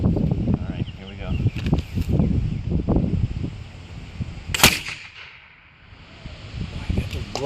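A homemade potato cannon fires outdoors: a sharp, loud burst with a brief airy whoosh, set amid rustling and background voices before it and a quieter stretch after.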